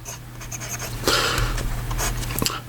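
Steel medium nib of an ensso Piuma fountain pen in black aluminum, writing with Sailor Yamadori ink, gives soft close scratchy strokes on paper in short irregular bursts over a low steady background hum.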